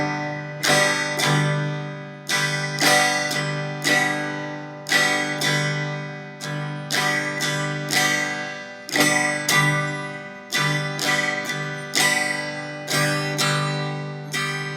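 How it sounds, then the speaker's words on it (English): Acoustic guitar played with an elaborate, syncopated strumming pattern, rhythmic chord strums close up and ringing, with no talking. "we're going to get a little more elaborate with the strumming hand"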